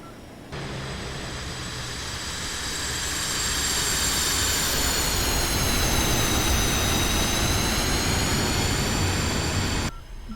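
An F-5E jet engine in the DCS World flight game roars steadily during a straight-in landing on critically low fuel, with a high turbine whine over a dense rumble that swells slightly and then holds loud until it cuts off.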